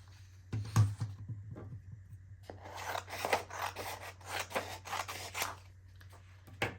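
Scissors cut through a sheet of plain copy paper in a quiet room, giving soft, close, rhythmic snipping and rasping strokes after an initial sharp click.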